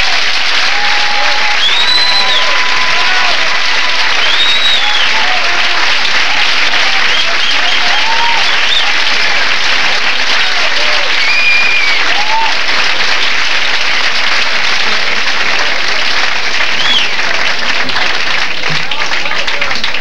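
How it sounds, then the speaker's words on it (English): Sustained studio audience applause at a 1981 televised comedy competition, loud and dense throughout, with scattered whistles and cheers rising above the steady clapping and crowd voices mixed in. "Let's give them all a big applause"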